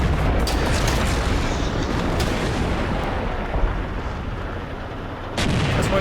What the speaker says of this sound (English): Shooting into the side of the T4 there.